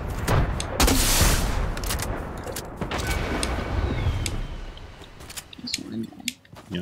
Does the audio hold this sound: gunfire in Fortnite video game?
yes